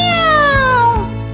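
A cartoon cat gives one drawn-out meow, loud and close, with clear harmonics that slide downward across about a second.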